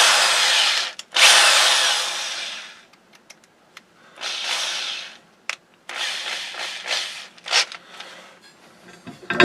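A power drill whines loudly in several bursts, starting and stopping, with rough grinding and rattling between runs, close up, while drilling parts for a custom chopper motorcycle.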